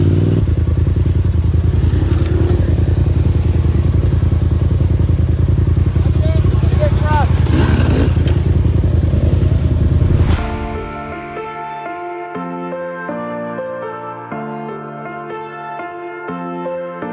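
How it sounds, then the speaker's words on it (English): Dirt bikes pass on a trail near a turbo Polaris RZR side-by-side, heard as loud continuous engine roar and rumble for about ten seconds before it drops away. Tonal music follows, and voices are present. "She's watching the dirt bikes pass."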